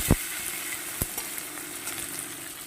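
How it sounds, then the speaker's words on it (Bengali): Tomato and onion frying in a pan for a quick vegetable dish, a steady close sizzle running throughout with a couple of sharp clinks or scrapes from stirring near the start and about a second in, no voices. "এটাকে আমি সুন্দর করে ভেজে নেব"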